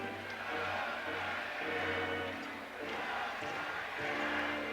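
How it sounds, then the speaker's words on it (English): A hockey arena crowd at a 1979 WHA game between Houston and Winnipeg chants in a rolling, rhythmic roar that swells and dips, filling the space from a distance with no clear commentary over it. "the crowd chanting, "Throw Claxon out.""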